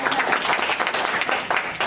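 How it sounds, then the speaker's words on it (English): A committee meeting audience claps for a staff member in a brief burst of applause from a small room, dense and even for under two seconds. "We'll give her a round of applause."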